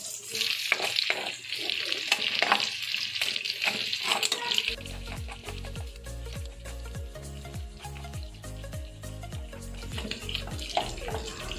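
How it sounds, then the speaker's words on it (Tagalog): Garlic sizzles in a pan of pork for adobo, starting with a hissing, splashy fry and giving way to a steady spitting crackle as it is stirred. "Tapos ilalagay natin yung bawang. Ayan, halo-halo."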